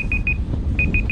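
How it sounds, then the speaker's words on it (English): An alarm beeps on a frozen lake during an ice fishing trip at Lake Isabel, a close, bright electronic tone in two quick bursts of short pulses over outdoor background noise. "my alarm's going off"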